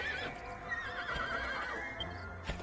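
A horse in the video game Dragon Quest VIII neighs and whinnies loudly, with hoof clip-clops underneath and game sounds around it.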